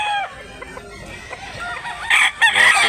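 A rooster at a chicken market in Mantalungon, Barili, Cebu gives a single loud, close crow near the end, after a quieter stretch of clucking and background chatter.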